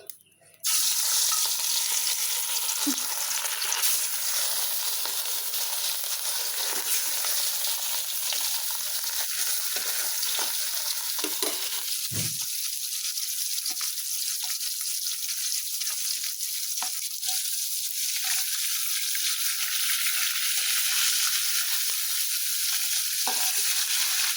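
Fish sizzling as it fries in oil in a karai (wok) in a home kitchen: a loud, steady, close crackling hiss that runs unbroken throughout, with faint stirring or utensil sounds and no talk.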